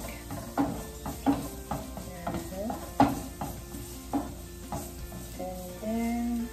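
Garlic and onions sizzle in a hot pan for picadillo while a utensil stirs them, with repeated scraping strokes over a steady frying hiss, close and moderately loud.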